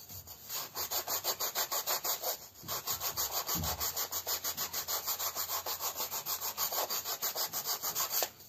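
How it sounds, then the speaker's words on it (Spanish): Steady rhythmic rasping of sandpaper scrubbing back and forth over a surface, close and continuous, with no voices. "Y tratemos que con la misma lija borremos lo que se marcó."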